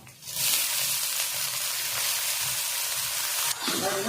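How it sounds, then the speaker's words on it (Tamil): Stem amaranth greens drop into hot oil with frying onions and chillies for a South Indian stir-fry. A loud, steady sizzle carries throughout, and a fresh hiss flares up near the end. "இப்போ கீரையை போட்டுடலாம்"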